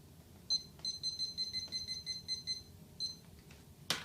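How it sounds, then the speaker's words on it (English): Kitchen oven timer being set during home cooking: a series of short, bright electronic beeps in quick succession, fairly faint, ending with a single sharper click. "I'll set the timer for 10 minutes."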